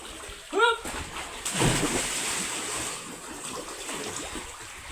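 People splash and bathe in cold water at the bottom of a 170-foot-deep stepwell, with a sharp splash early on and a longer burst of churning water after, under lively voices and chatter.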